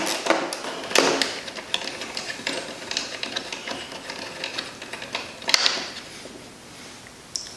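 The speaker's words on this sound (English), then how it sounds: "You got a 10mm ratchet wrench. Helps if you turn it the right way." Rapid, close ratcheting from a 10mm ratchet wrench turning the mirror bolts on a 2020 Yamaha R1, a steady run of fine pawl clicks with a few sharper metallic taps.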